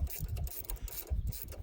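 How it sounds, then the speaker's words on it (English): An old Wrigley truck's gears are worked through by hand, giving short bursts of close, rattling mechanical clicks and ratcheting clatter in an uneven rhythm. "I want to make sure these gears are going to work"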